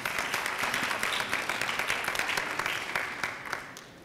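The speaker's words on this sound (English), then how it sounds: "let's give all of them a big round of applause" A crowd at a domestic violence town hall meeting breaks into a big round of applause, dense and steady clapping from many people that holds strong, then begins to thin and fade toward the end.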